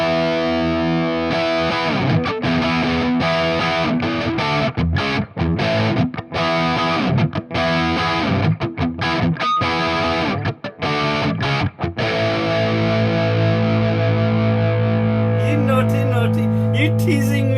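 An EVH 5150 50W EL34 guitar amp plays a loud, heavily distorted tone with a pronounced mid hump rather than scooped mids. Chugging riffs and sustained chords ring out, with no one talking.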